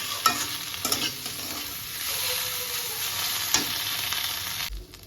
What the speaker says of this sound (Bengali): এবার এটাকে আমি যতক্ষণ না লাল লাল করে ভাজা হবে ততক্ষণ কিন্তু আমি এটাকে ভাজতে